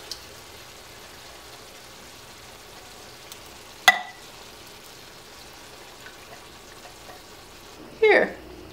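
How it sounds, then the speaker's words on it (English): Two cans of tomato sauce are poured into a hot pot while cooking arroz con gandules. Each one sets off a short, sharp sizzle, heard twice over an otherwise quiet kitchen background. "So we're gonna add 2 cans of tomato sauce."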